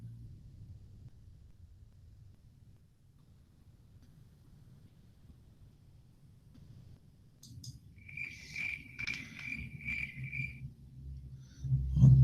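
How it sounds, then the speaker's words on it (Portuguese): Crickets chirping near a house at night, a few faint repeated trills emerging briefly over a low ambient rumble, distant and soft. "Tá tão silencioso que eu consigo ouvir os grilos aqui perto de casa."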